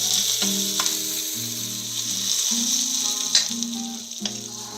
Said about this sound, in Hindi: ये प्याज हो गए हैं, बिला मत इनको बंद करना, बस 1-2 मिनट इनको फ्राई करना है